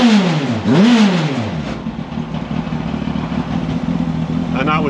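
A Yamaha R1 motorcycle engine in a spaceframe racecar revs up and falls back in one loud sweep at close range, then settles into a steady, throbbing buzz, with talk partly audible over it.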